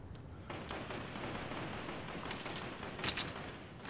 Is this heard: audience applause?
no